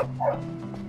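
A dog barks in the video game Canis Canem Edit (Bully), giving one short yipping bark over a steady low game hum, close and fairly loud.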